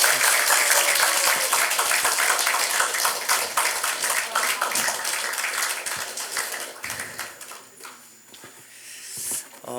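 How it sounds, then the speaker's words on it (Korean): A church audience applauds after a Thanksgiving play, with dense, lively clapping that fills the room, then thins and tapers off near the end. "우리 연극 수고해주신 우리 지체들에게 박수 한번"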